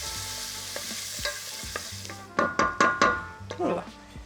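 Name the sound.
garlic and onion sizzling in oil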